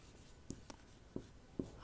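A teacher writes on a classroom board, with a few short, distinct chalk taps and strokes spaced across a quiet moment and no speech.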